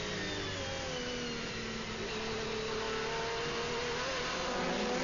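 Loud, steady roar of GT racing car engines at the 2001 FIA GT Zolder race whose pitch shifts and climbs as they rev hard, with no voices.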